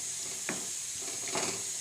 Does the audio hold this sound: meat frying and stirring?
yes